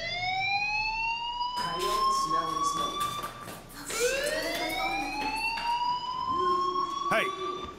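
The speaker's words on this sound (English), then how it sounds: "Hey, do you hear that fire alarm?" A school fire alarm in Life is Strange wails in rising and falling sweeps that repeat loudly, while other voices and sounds briefly break in underneath.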